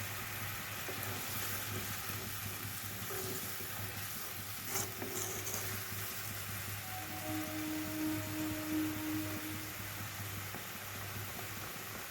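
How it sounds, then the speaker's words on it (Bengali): Bengali poppy seed paste (posto) sautés briefly in a pan, giving a steady, even sizzle and soft stirring scrapes throughout, with a low background hum. "এবার এই পোস্তটা আমি অল্প করে কষিয়ে নেবো অল্প সময়ের জন্য"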